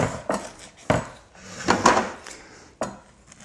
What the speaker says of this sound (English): I use the back of the spoon and just get the flesh out like that.